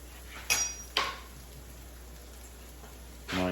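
Scallop pasta with peas being stirred in a pan: two sharp metallic clinks of a utensil against the pan, a quiet pause, then a scraping clatter near the end.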